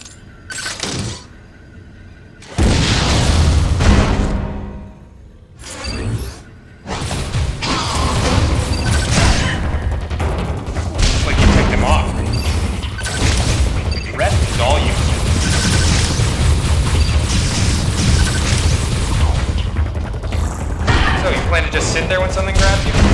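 Missiles fire and explode in Metroid Other M on Nintendo Wii, with loud bursts of blasts and crashing debris that build into dense continuous combat noise, along with mechanical clanks and game effects.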